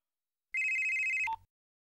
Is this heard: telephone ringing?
yes